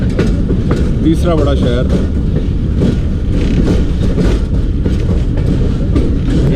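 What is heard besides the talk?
Jaffar Express train running on the rails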